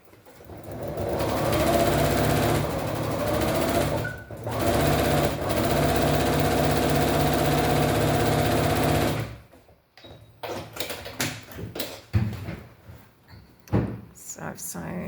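A sewing machine stitches fabric for foundation paper piecing, running in a steady, loud whirring hum for about nine seconds with a brief pause, then stopping into scattered handling clicks and rustles.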